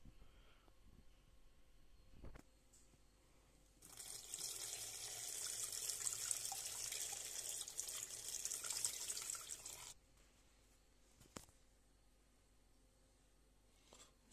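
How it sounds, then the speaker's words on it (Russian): Tap water runs steadily into a cooking pot for about six seconds, then shuts off, leaving a quiet room with a couple of small knocks. "Сейчас наливаем воды и в путь."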